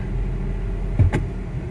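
A truck drives around town at low speed after a brake pad replacement, its engine a steady close rumble inside the cab with a couple of brief thumps and bumps from the road.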